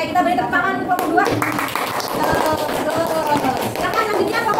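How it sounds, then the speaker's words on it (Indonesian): Classroom children clap for a group, a loud burst of many hands close by that thins into scattered claps and taps, with a voice speaking over it. "Oke, kita beri tepuk tangan untuk kelompok 2."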